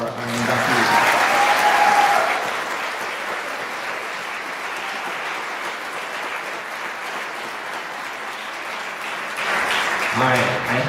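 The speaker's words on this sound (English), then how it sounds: "Can we get one more round of applause for our inductees?" An audience at a high school National Honor Society induction ceremony claps for the inductees, a dense, loud burst of applause that settles into a steady, slightly softer patter before swelling again at the end.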